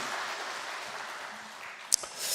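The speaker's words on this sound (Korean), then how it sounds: "우리 수고한 분들, 또 이 은혜를 주신 하나님께 우리 한번 박수로 마음을 나누겠습니다" A congregation at a Korean church thanksgiving dawn prayer service gives a short round of applause, a soft steady patter of clapping that fades after about two seconds, with a brief knock near the end.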